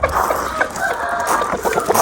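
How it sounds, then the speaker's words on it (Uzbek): A rooster in Namangan crows loudly and close by, one sustained full-throated call filling the whole moment. "Xo'roz"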